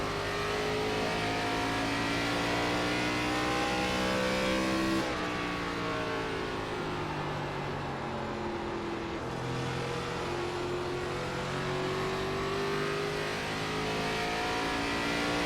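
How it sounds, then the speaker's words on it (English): NASCAR stock car engines, a 2003-season Pontiac among them, in the iRacing sim roar continuously and loudly, with steady high-revving drones that shift in pitch as cars pass and pull down pit road, with no talking. "There goes Newman down pit road."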